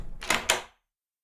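A door closing as a radio drama sound effect, heard as two quick close knocks or thuds a fraction of a second apart, fairly loud and isolated, then silence.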